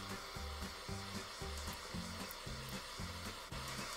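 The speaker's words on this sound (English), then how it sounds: "you can use a kitchen blowtorch until the sugar caramelizes" Kitchen blowtorch caramelizing the sugar topping on crème brûlée, a quiet continuous roaring hiss with a faint low pulsing underneath, close and steady.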